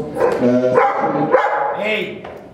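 A dog barks and yips a few times close by, its short calls mixed with people talking over it.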